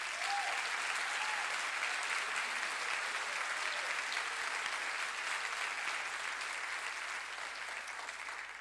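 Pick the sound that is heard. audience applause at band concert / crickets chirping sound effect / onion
audience applause at band concert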